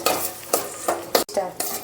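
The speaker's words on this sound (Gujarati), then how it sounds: "હવે આપણે બધા સોસ નાખી દીધા છે હવે હલાવી નાખું" A spoon stirs gravy-style pasta in tomato sauce in a pan, with about six rhythmic scraping strokes roughly a third of a second apart against a soft background sizzle.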